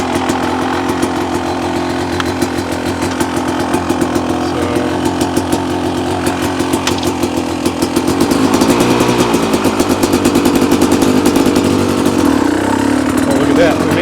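A 2024 Beta motorcycle engine droning steadily while being ridden, loud and close, rising slightly in intensity partway through as the ride picks up; a voice may be faintly present underneath.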